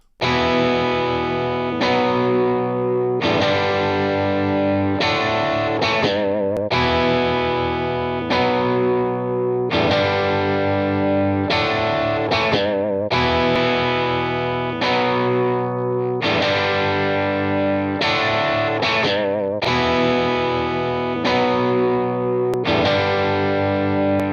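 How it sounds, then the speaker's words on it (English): A distorted electric guitar, a Strat on its bridge pickup through a TS-808 Tube Screamer overdrive pedal, plays chords and short riffs with a warm, overdriven crunch, sustained and loud, alone without talking. "let's start with the TubeScreamer with the TS-808. Let's go, bridge pickup on the Strat."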